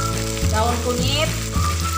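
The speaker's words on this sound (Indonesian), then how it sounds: "Diaduk-aduk hingga merata sampai mengeluarkan wangi ya." Bay leaves, lime leaves, turmeric, galangal and spices for gulai kapau fry in a pan and sizzle steadily, close and loud, while a utensil stirs them with a couple of scraping strokes.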